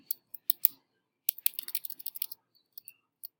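Keyboard keys pressed for an undo shortcut in Photoshop: sparse, crisp clicks, a few single taps, then a quick cluster and scattered late presses, close and clean with no talking.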